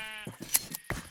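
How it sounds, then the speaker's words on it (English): Several short sheep bleats from a Minecraft game, a quick run of nasal calls close together over soft background music. "sad sheep"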